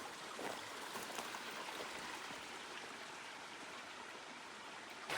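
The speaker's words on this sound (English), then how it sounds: "here's a very good spot to get water if you need it. Plenty of water there. Flowing good." Flowing mountain stream on a backpacking trail up Mt Pinos, a steady close rush of splashing water that holds evenly throughout, with no voices.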